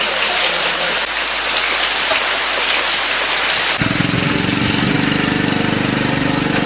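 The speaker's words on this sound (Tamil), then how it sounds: "திருகோணமலையில் தொடரும் மழையினால் மக்களின் இயல்பு வாழ்க்கை பாதிக்கப்பட்டுள்ளது." Heavy, continuous rain pours down loudly and steadily in Trincomalee, with a low engine-like hum joining partway through under the constant hiss.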